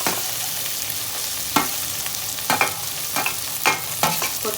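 Ginger garlic paste sizzling in a pan for a Tamil country chicken curry, a constant close frying hiss broken by several scraping stirs of a spoon against the pan.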